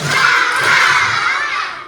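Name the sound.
children clapping and laughing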